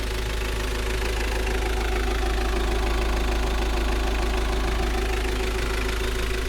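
A 1992 Mitsubishi Delica Star Wagon 4WD turbo diesel engine idling with an oil leak, a close, steady rattling clatter and low hum under the seat, constant and even throughout with no voices.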